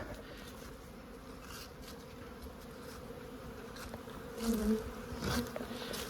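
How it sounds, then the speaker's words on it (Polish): A swarm of honeybees drones steadily as they fly about their hives in an apiary in early spring, with one buzzing louder as it passes close by. "Tutaj jak pszczoły latają"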